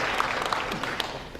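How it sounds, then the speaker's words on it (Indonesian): An audience at a business launch seminar claps in a steady, moderately loud burst of applause welcoming a speaker, with scattered sharper claps standing out. "berikan tepuk tangan sekali lagi untuk Bapak Milton"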